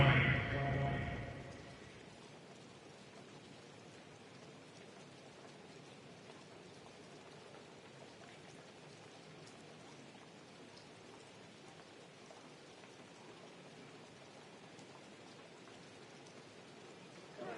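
Steady rain hiss falls through a football video game broadcast of a Buccaneers versus Vikings matchup, a dense even wash of drops that carries on alone after a brief louder burst of crowd and commentary at the start.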